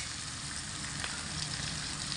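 Capsicum and grated ginger fry in a pan with a soft, steady background sizzle, fairly faint and even, with one light tap partway through.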